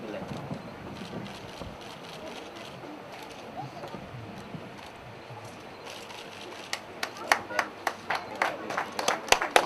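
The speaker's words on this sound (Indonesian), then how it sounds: "kita berikan tepuk tangan sekali lagi untuk penandatangan prasasti" Audience applause at an Indonesian village tourism event's inscription-signing ceremony, scattered claps building over the last few seconds from a murmuring outdoor crowd with wind noise.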